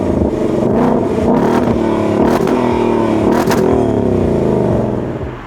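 A Ford Mustang Dark Horse engine revving hard, loud and close, a throaty roar that climbs and falls in pitch through several sweeps with sharp crackles between them, no talk.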